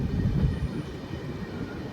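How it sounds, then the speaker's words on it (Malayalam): A Kozhikode Jan Shatabdi Express with LHB coaches rumbles heavily into Thrissur railway station, a deep rolling roar that eases slightly as it slows, with no voices. "നമ്മൾ തൃശ്ശൂർ റെയിൽവേ സ്റ്റേഷനിൽ വന്ന് കയറാണ്."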